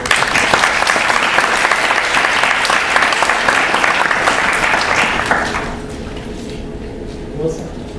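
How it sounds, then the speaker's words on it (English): A student government general assembly audience gives a dense, steady round of applause for about five seconds, then it fades off into a quieter room with faint voices. "So, we want to give you guys a round of applause."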